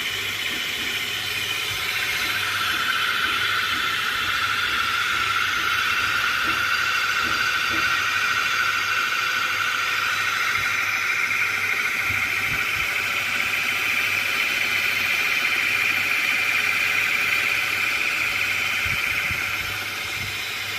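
A magnet-powered genset generator runs steadily and smoothly on its own, a continuous mechanical whir with a constant hum and no talk over it.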